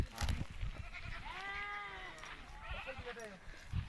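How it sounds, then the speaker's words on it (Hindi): Goats bleating nearby, a couple of wavering calls over a busy outdoor background, with people talking now and then. "बकरी बघितले का"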